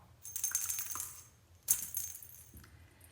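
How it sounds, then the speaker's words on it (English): Two short bursts of bright rattling, a small plastic spider-shaped cat toy rattle shaken close by, separated by a brief pause, with faint low hum underneath. "The rattle spider. That's this. Sounds like a baby rattle."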